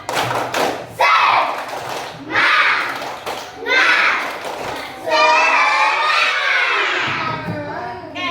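A class of schoolchildren repeating the tepuk semangat clapping chant, sharp rhythmic claps between loud group chanting, ending in a long shouted cheer, close and energetic.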